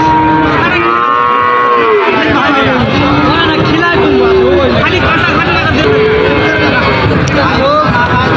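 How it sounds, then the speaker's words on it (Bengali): Many Friesian cattle at a crowded cattle market near a border moo loudly and repeatedly, with long calls that overlap close by over a constant babble of people talking. "এখানে কিন্তু প্রচুর গরু আছে"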